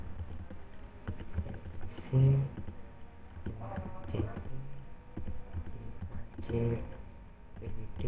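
Keystrokes on a computer keyboard tap at an irregular pace through a Debian server setup. A few sharper key presses like an enter key stand out, and a person talks softly throughout.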